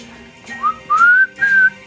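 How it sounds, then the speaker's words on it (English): Three short rising whistled notes, close and clear, each sliding upward in pitch, with soft room murmur underneath. "A little whistle."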